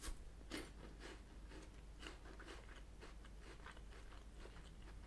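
Biting into and chewing a Cadbury Timeout wafer bar, crisp crunches followed by steady moist chewing, quiet and close with no talk.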